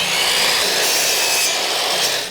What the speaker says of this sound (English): So there's a lot of construction noise, a lot of lawnmowers.